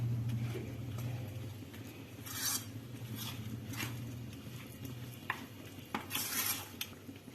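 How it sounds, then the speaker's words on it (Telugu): Raw chicken being mixed with curd and coriander in a bowl for chicken pakodi, with soft wet squelching and scattered clinks of a utensil against the bowl, faint and close. "ఇప్పుడు పెరుగు వేసుకొని కొత్తిమీర వేసుకున్నాక బాగా కలుపుకోవాలి"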